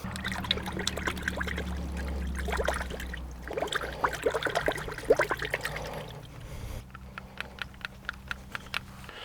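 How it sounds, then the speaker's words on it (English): A dirty red dot sight is rinsed under water, a steady trickle and pour running for several seconds with small splashes and drips, close up, then dripping sounds as the flow stops. "it's gotten quite dirty with beating up against the wood there, so we better go ahead and wash it off"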